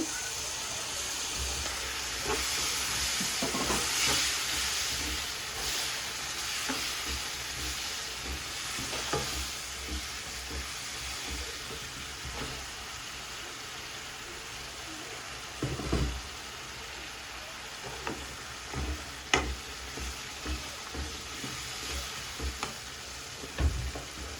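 Onions sautéing in a pan for a Sankera fish curry, a steady soft sizzle with scraping stirs and occasional sharper spoon knocks against the pan, close and moderately quiet, with no voices.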